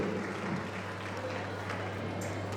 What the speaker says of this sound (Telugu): ఒక్కసారి క్లాప్స్ అండి ప్లీజ్